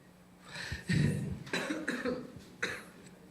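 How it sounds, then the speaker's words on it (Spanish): A string of harsh, repeated coughs in quick succession, close to the microphone, forming a short coughing fit with no talking. "Tengo un ataque de tos"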